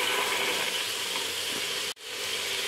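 Field beans and pigeon peas fry in a hot pan for a mixed vegetable sambar, giving a steady, dense sizzle with a bright hiss. A brief sharp break near the end cuts out, then the frying resumes.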